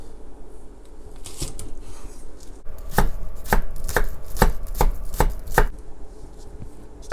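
A knife chops an onion on a cutting board, the white parts for Korean gochujang pork ribs, in a run of sharp, close strokes, about eight crisp taps in a steady rhythm with no talk.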